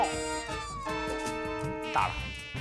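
A close, steady high-pitched whine of a mosquito buzzing, wavering slightly in pitch and loudness without pause.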